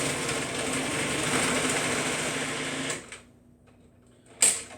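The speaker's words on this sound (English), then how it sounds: "I'm going to go ahead and shred this real quick here." An electric shredder grinding cheese whirs loudly and steadily for about three seconds, then cuts off into near silence before a brief sharp burst of motor noise at the end.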